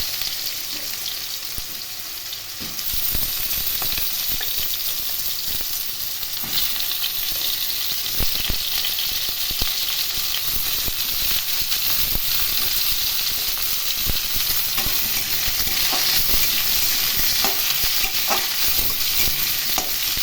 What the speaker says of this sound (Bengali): আলুগুলো একটু নাড়াচাড়া করে নিয়ে এর মধ্যে পটল দিয়ে দেবো।